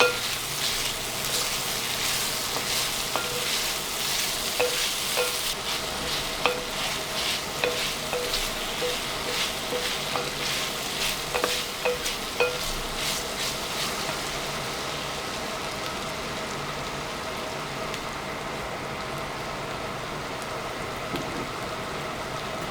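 Beef stew sizzling in a tagine while being stirred, a steady frying crackle with scattered scraping clicks of the spoon, fairly close and continuous with no talking.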